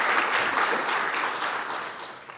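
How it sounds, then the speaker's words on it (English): A breakfast crowd gives a councilwoman a round of applause: a thick, even roar of many clapping hands, fairly loud and continuous, tapering slightly toward the end with no speech. "we'll give her a round of applause"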